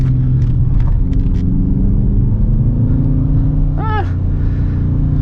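A 2019 Dodge Charger R/T drives through a corner. Its engine gives a loud, steady low rumble heard from inside the car, with a short rising whine near the end and no talking.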